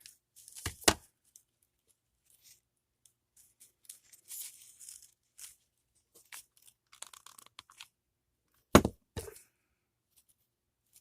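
Scissors snip and crinkle twisted paper while a paper twist Christmas angel ornament is made, giving sparse, close crunchy cuts and rustles with long silent gaps and two louder snips, and no talk.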